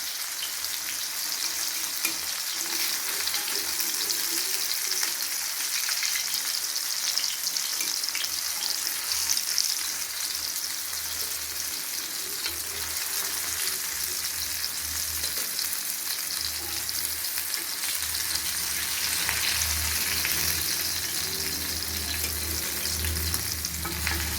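Sheela fish pieces fry in oil in a pan with a long, even, close sizzle. Occasional stirring and crackling come through, and no one speaks.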